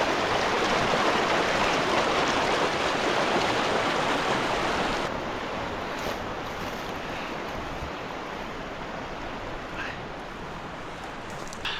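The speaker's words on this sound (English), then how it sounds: "Across the creek." A mountain creek in Colorado rushes steadily during a crossing, a broad, continuous hiss of flowing water, close and loud at first, then slightly softer and duller midway, with faint brief knocks near the end.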